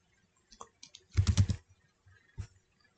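A short burst of keystrokes on a computer keyboard, a few isolated taps followed by a quick cluster of clicks, close and quiet with no talking.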